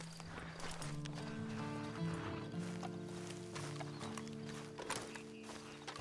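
Horse hooves clip-clop at a steady walking pace in the video game Red Dead Redemption 2 Online, over a droning musical background, with a brief whinny-like sound near the end.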